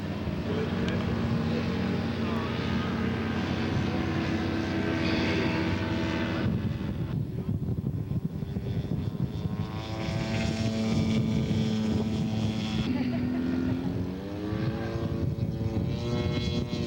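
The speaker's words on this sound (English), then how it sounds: "we're gonna have a fight between the Zero and the Hellcat here." Scale model Zero and Hellcat aircraft fly at an outdoor show, their buzzing propeller engines droning steadily and changing pitch as they pass, with occasional voices in the background.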